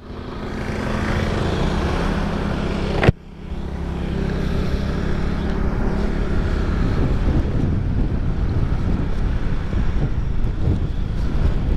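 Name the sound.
strong headwind during motorcycle ride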